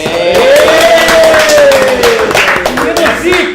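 A small group on a podcast set claps together in a brisk burst of applause while a voice talks over the clapping.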